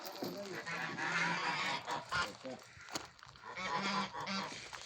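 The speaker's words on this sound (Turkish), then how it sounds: "Kazlar rahatsız oldu bizden." A flock of geese honks noisily and continuously nearby, overlapping calls rising and falling with a brief lull midway.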